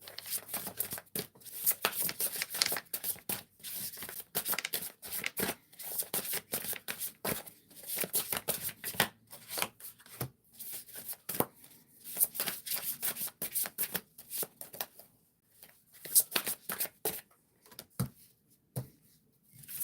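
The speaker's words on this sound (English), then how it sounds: "let's shuffle that again" A tarot deck, the African Goddess Rising cards, is shuffled repeatedly by hand. Bursts of riffling and flicking come up close in uneven clusters, with short pauses between them and no voices.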